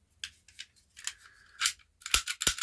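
Mechanism of a 1950 Hubley Army 45 cap gun clicking, a few sharp metallic snaps and ratchety clicks in short, irregular bursts, close and crisp against a quiet background.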